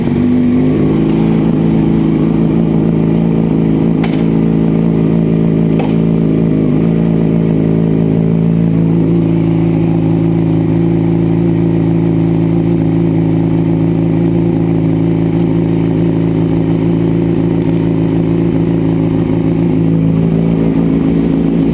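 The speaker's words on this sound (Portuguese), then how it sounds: "Eu ligo a moto." A Yamaha FZ6 Fazer 600 motorcycle idles steadily close by during a wash, its four-cylinder engine giving a constant low rumble with a little mechanical clatter and a couple of brief ticks early on.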